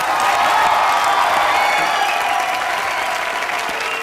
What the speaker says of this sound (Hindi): जोरदार तालियां हो जाए भारती और करण के लिए